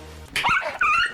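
A dog barks twice in quick succession, close and fairly loud, sharp yelping barks with a whiny edge after a brief quiet moment.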